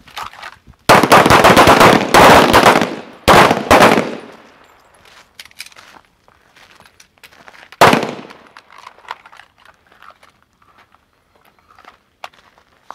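Pistol shots crack out on a night shooting range in a quick burst of several loud, close rounds, then another single sharp report a few seconds later, with faint rustling and scattered small knocks between them.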